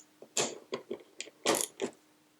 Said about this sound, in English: I'm just going to take one of these bolts out